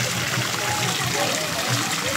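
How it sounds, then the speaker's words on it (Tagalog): Water runs steadily at a hot spring mountain resort in Nabunturan, Davao de Oro, a continuous close trickling wash with no talk. "May tubig na mga kabisita o nagkaso-aso."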